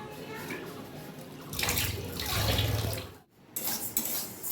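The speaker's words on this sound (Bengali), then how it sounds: "তো চলো মাছগুলো ধুয়ে নিই" Running water rinses fresh snakehead fish in a home kitchen, a steady broad splashing that swells louder midway, breaks off briefly, then resumes with clinks of dishes; no one speaks.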